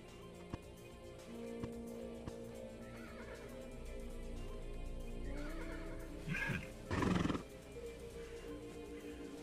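A horse in the video game Grim Soul lets out a loud whinny near the end, rising over quiet ambient music and faint game sounds.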